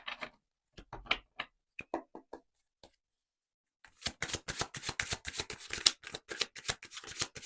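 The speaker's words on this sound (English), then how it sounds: "I'm going to give one more shuffle and then get your cards out." Tarot cards being shuffled up close: a few scattered taps and flicks, a pause, then a fast, dense riffle of crisp card snaps.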